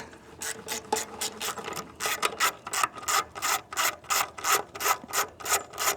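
A screw on a trailer light is loosened with a hand tool: a series of rhythmic rasping ratchet strokes, speeding into a regular back-and-forth pattern, close and fairly loud, no voices.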